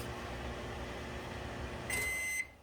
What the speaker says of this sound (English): it's just about done. Microwave's going to go off.